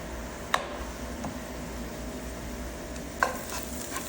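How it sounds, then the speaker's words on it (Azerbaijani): Meat cooking with onions that were fried first, giving a steady low sizzle in a pan, with two short clicks of a utensil stirring against the pan. "Burada soğanı qovurmuşam və əti əlavə edirəm."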